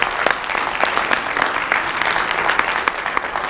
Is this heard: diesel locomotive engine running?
no